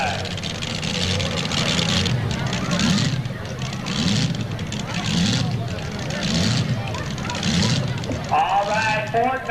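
A Hustler two-wheel-drive pulling truck at a 1994 NTPA tractor pull in Imlay City, Michigan, with a steady roaring engine that swells and fades in waves. An announcer talks loudly over it throughout.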